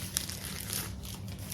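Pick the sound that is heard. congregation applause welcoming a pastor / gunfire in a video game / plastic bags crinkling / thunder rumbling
plastic bags crinkling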